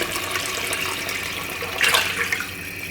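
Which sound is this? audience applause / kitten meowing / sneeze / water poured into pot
water poured into pot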